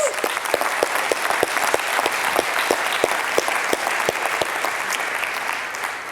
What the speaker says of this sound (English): let's give a big round of applause for these guys